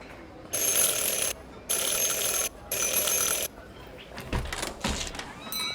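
A desk bell rung three times in the adventure game Syberia: The World Before, three bright sustained rings in even succession, followed by softer footsteps and movement.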